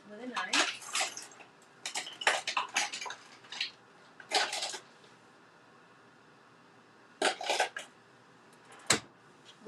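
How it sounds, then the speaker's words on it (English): A knife cuts away paper for a decoupage project in a series of sharp, close scraping and slicing bursts, some rapid clusters and some single strokes, with quiet pauses between. "So I'm gonna cut away the parts that I don't want with a knife"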